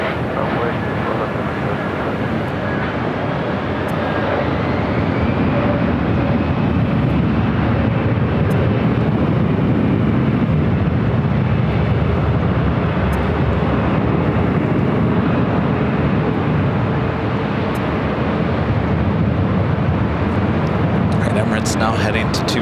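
Airliner taking off from runway 24 left at Los Angeles International Airport, a loud sustained jet roar that swells and shifts in pitch as it passes, fairly close and dominating the scene.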